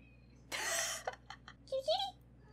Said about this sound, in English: It's my cat. He's on my bed.